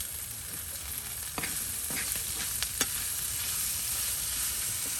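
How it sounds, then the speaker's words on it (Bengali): Chopped dudh kochu taro is added to a pan with spices and mixed in: a steady sizzle of frying throughout, with soft scrapes and taps of stirring. "এই কুচি করে নেওয়া দুধ কচুগুলো এখন দিয়ে দেওয়া হচ্ছে একটু মশলার সাথে মাখিয়ে মাখিয়ে।"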